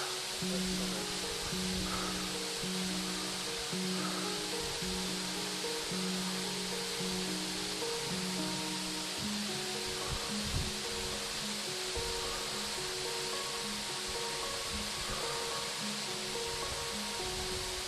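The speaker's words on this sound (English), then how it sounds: "And here we have it, Gap Creek Falls." Gap Creek Falls in the Watagan Mountains runs strongly, and its loud, constant roar of falling water fills the scene with no speech heard.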